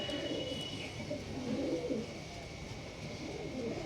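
Kalsira pigeons coo in soft, low, rolling murmurs that continue steadily and fairly faintly, with a light chirp breaking through now and then.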